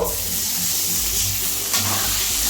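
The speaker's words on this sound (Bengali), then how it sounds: "এখন একটু নাড়াচাড়া করে একটুখানি জল দিয়ে দিব" Raw banana pieces with turmeric sizzle steadily in a hot pan, with a soft scrape of stirring over the continuous frying hiss.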